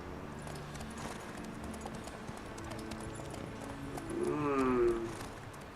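Steady horse hoof clip-clops trot along over a busy soundscape in The Witcher 3: Wild Hunt, with a brief tonal whinny-like sound rising near the end.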